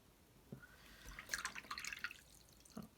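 A paintbrush swished and rinsed in a jar of clean water during ink painting, giving close, soft watery drips and splashes in a short burst with quiet pauses before and after.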